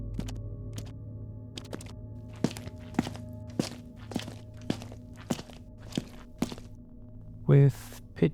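Footstep sound effects for a Cyberpunk 2077 scene sound as a steady series of dry, thudding steps, about a dozen evenly paced across several seconds, close and isolated over a faint low hum, with one brief louder burst near the end.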